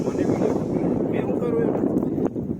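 Wind sweeps across an open hilltop at a temple, a steady, loud roar buffeting the microphone throughout with no pauses.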